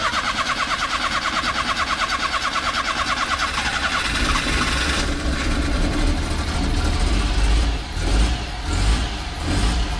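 A kei truck fitted with a new battery cranks with a rapid, even rhythmic starter churn, then catches and runs with an irregular, sputtering idle that revs and dips, close and fairly loud with no talking.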